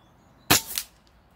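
A single sharp rifle shot, an Artemis CR600 4.5 mm hybrid air rifle firing at a spinner target 70 m away, with a crisp near crack and a short tail, alone in silence.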